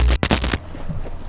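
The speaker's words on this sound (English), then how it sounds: "that's when you hear gunshots ring out." Several sharp, loud gunshots crack out in quick succession during a warrant service on a suspect, captured in recorded footage, then cut off abruptly into low room noise.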